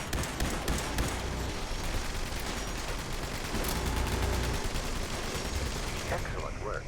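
Gunfire in the video game Fallout 76, with dense, rapid shots rattling continuously and blending into a steady, noisy barrage at moderate volume.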